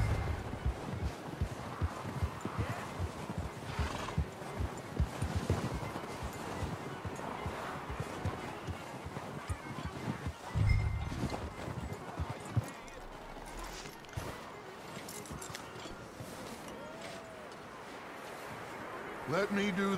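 Horse hooves clip-clop steadily through most of the stretch in Red Dead Redemption 2, a close rhythmic trot over ambient wind, fading in the final seconds.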